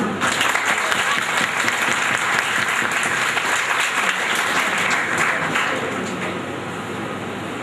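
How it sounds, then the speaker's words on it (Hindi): A crowd claps steadily and loudly for several seconds, the applause easing off slightly toward the end. "बराए करम इन पेरेंट्स के लिए भरपूर तालियां"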